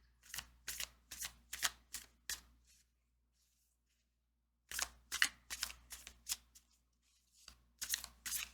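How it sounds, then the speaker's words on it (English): Tarot cards are handled and pulled from a deck in quiet, rapid bursts of papery flicks, in two clusters separated by a silent pause, with a final burst at the end. "I'll just pull out another card for each one of these just to see if we can get more information."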